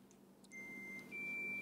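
A phone on a hospital sepsis alert system chimes with a message notification, two short steady high electronic beeps, clear and close over a faint room hum.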